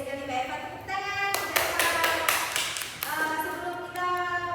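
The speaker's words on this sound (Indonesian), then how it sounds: "tepuk tangan" Students in a classroom guidance session give a short burst of hand clapping lasting about two seconds, with voices before and after.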